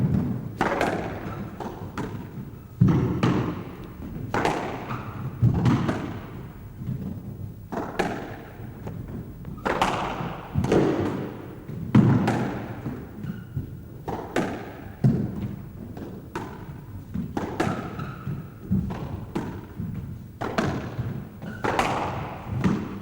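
A squash ball is struck repeatedly during a fast rally on a court, a series of sharp echoing thwacks and thuds at an irregular rhythm, each ringing briefly in the hall.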